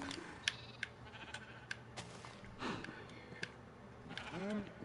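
Sheep bleat in the Minecraft video game, several short bleats spread through the clip, with a longer wavering bleat near the end over quiet game ambience.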